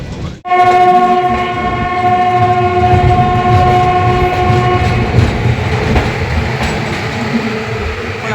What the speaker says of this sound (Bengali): কাশি পেরিয়ে এবার আমাদের ট্রেন ঢুকছে বারাণসী